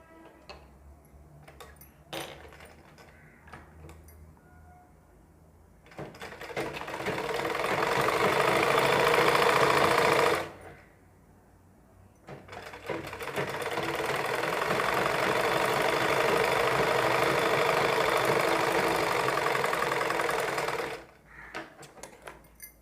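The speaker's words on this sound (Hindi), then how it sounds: "हम दोनों पट्टियों को इस तरह से बिल्कुल इस तरह से मिलाकर इस पर एक सिलाई लगाते हैं" A sewing machine joins two fabric strips to make piping, running in two long bursts of fast, even mechanical chatter separated by a brief pause, with a few scattered clicks and handling noises before the first run.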